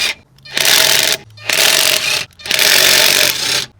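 Three loud, close bursts from an impact wrench or similar power tool taking the wheels off a Ford Ranger pickup, each lasting about a second with short pauses between.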